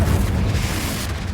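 A Confringo fire spell from Hogwarts Legacy erupts as a loud, close, sustained fiery boom that rumbles steadily for over a second without fading.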